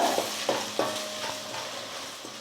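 Tomato sambar with sambar powder just added is stirred over a low flame: a few rhythmic scraping strokes in the pot over a light sizzle, easing off toward the end, with no voices.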